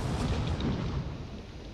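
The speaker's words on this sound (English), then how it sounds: "more missiles are being fired from a distance" Missiles launch at a distance in a Drone Wars desert battle, giving a dense, continuous roar of rushing booms and rumbles that holds steady for under two seconds before easing slightly.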